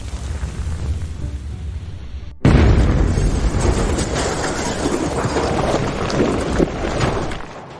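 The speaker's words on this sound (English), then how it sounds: "A bomb has been set off." A bomb blast goes off inside a prison building: a sudden loud boom after a quieter stretch, followed by a sustained, rumbling roar of debris and noise that slowly fades.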